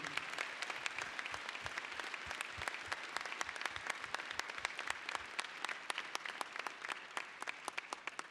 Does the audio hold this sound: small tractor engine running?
no